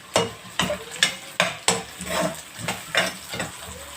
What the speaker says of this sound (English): I'm sauteing now my onion.